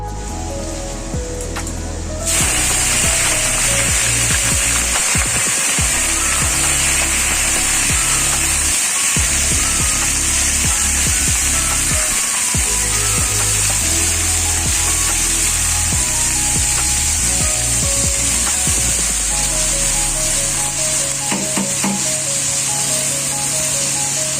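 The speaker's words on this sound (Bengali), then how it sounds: "শাকটা ভাজা করবো, রসুন আর লঙ্কা দিলাম, আমাদের তেল হচ্ছে" Leafy greens frying in hot oil with garlic and chili, giving a loud, steady, close-up sizzle that starts abruptly and hisses on without pause.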